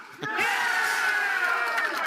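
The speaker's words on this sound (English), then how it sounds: "You got the crowd too much involved." A crowd at a professional Major League Pickleball match in Atlanta roars and cheers, building suddenly after a brief lull into a loud, sustained wall of voices.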